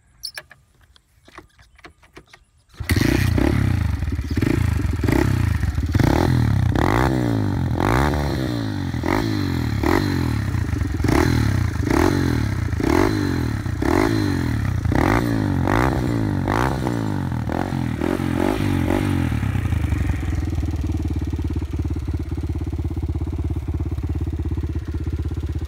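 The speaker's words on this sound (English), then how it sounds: "I'll start it up for you guys. You can listen to how it sounds" A 2011 Kawasaki KLX110L pit bike is kicked a few times after brief clatter, then the engine fires and revs in repeated throttle blips before settling into a steady, close, loud idle.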